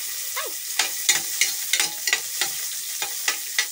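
Garlic and tomatoes sauté in a pan, a soft background sizzle broken by a dozen sharp clacks and scrapes of a utensil stirring at an irregular rhythm, with no voices.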